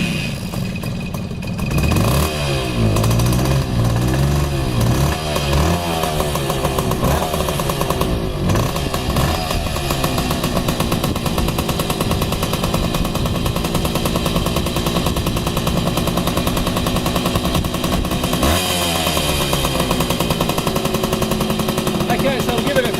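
A cold Suzuki TS 90 motorcycle engine kicks into life and then runs on, revving loud and close in rough, rattling bursts before settling to a steady, buzzy idle; no speech is heard.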